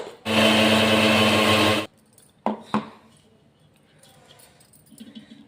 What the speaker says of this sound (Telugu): ఇప్పుడు దీన్ని మెత్తగా పట్టుకుందాం